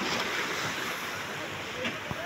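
Sea waves and wind at the coast near a small service boat, a steady, broad roaring wash with wind buffeting the microphone, faint and continuous throughout.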